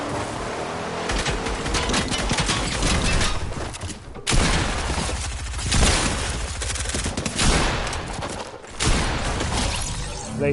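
In Fortnite, a player fires several weapons in turn: dense, loud bursts of rapid gunfire with short gaps where the weapon changes, and sharp crackling impacts throughout.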